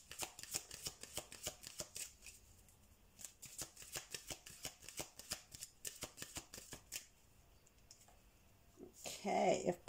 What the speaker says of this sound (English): Let me pull some oracle cards out for you as well.